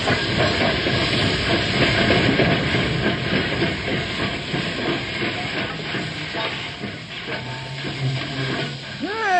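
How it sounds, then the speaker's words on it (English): A steam locomotive hisses loudly as it pulls into a station, a steady rush of escaping steam with faint rail clatter beneath, the hiss easing slightly toward the end. "The train just pulled in."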